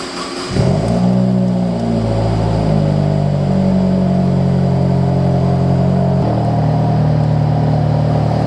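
Early 2000s Saab 9-3 Turbo with an exhaust leak idles loud and close after a sharp start, a rough droning engine note with a raspy leaking exhaust that steps up briefly before settling again.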